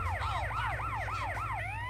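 An ambulance siren from the video game GTA San Andreas wails in steady repeating rising-and-falling sweeps, loud and close, over a low engine rumble, with no talking.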